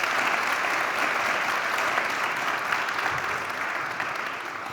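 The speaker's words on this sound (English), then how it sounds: "let's have another round of applause for all of our speakers today" Sustained applause from a conference audience thanking the day's speakers, dense and steady throughout at even loudness, fading slightly toward the end, with no talk over it.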